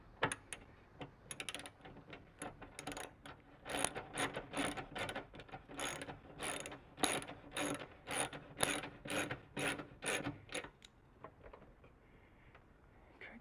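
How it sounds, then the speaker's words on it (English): Ratchet wrench with a 13 mm socket tightening a bolt during an off-road ladder install on a Bentley, a rapid series of close, crisp clicking strokes in bursts that stop near the end. "reach up with this wrench here, up inside, and on the outside I just have a 13 millimeter socket"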